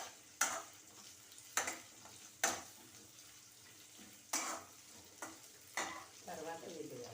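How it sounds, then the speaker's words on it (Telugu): Aloo parwal curry of potato and pointed gourd fries in a pan with a soft, steady sizzle, broken by several sharp scraping strokes of a spoon stirring against the metal, all fairly quiet and close. "ఇప్పుడు ఇది ముందు ఇది కొంచెం ఎర్రగా వేగాలి"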